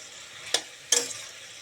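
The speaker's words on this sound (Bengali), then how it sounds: "তারপর একটু নেড়েচেড়ে দেব।" Vegetables for a Bengali vegetable dal are stirred in a cooking pan: two brief scraping strokes over a faint, steady sizzle, close and with no voices.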